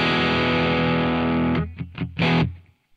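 Electric guitar through the Amplitube 5 CS amp plugin, heavily distorted: a sustained chord rings loud and alone, then a few short choppy stabs and a final burst before cutting off.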